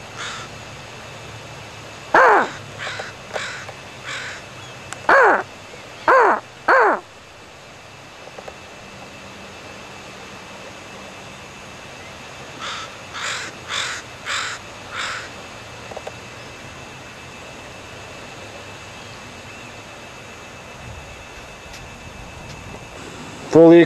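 A handheld crow call, a cheap device imitating raven caws, gives a quick burst of loud, harsh caws, then a pause and a second run of four or five caws near a beach, with a soft background hiss.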